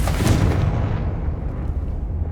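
Confringo fire spell from the video game Hogwarts Legacy bursting as a loud, booming blast with a sharp onset that rolls off into a low, rumbling tail.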